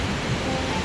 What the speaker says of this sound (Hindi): आपको पानी की आवाज सुनाई दे रही